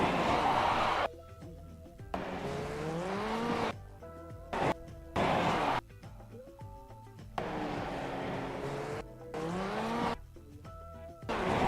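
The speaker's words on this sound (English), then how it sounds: "You can hear the engine rev up." A car engine repeatedly revs up and drops back, rising whines of tone broken by abrupt cuts, with tire scrabbling noise in between as the tyres fail to grip.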